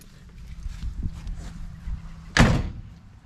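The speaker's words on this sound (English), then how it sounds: "Door shuts, that's good." An old car's door swings shut with a single loud, close thunk, following a few softer handling bumps and quiet fumbling.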